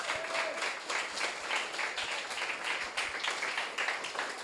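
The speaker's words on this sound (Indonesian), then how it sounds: "Good job, tepuk tangan buatnya." A school audience of students claps for a student at a school expo, a dense, steady applause of many hands that carries on evenly for several seconds.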